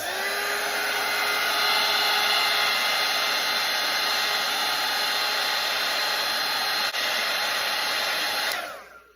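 A hair dryer blowing steadily over a wet watercolour painting, a loud continuous whine and rush held for about eight seconds before switching off.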